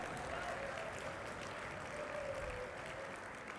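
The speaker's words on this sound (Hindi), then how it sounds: "तालियां कमजोर हैं, उठाओ।" Audience applause at a talk, a dense, even patter of many hands clapping that holds steady for several seconds, soft and somewhat distant, with no voices rising above it.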